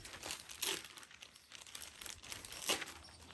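Parcel packaging crinkles and rustles close by as it is opened, with several sharper bursts of crumpling plastic or paper between quieter handling sounds.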